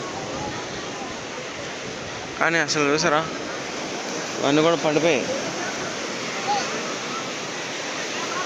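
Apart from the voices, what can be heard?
rough sea waves crashing on Vizag beach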